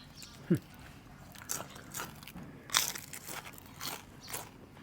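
Someone bites into young puffball mushrooms in a bamboo shoot curry, giving several sharp, close crunches spaced irregularly, with quiet chewing and faint background murmur between them.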